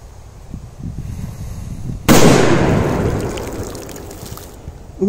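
A K05 firecracker explodes in water: one sudden, loud close blast midway, trailing into a washing splash that fades over a couple of seconds, with faint outdoor ambience before it.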